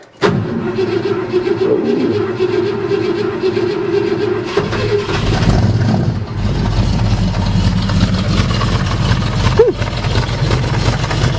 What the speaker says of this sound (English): So this is a cold start, not been started in about a week and a half.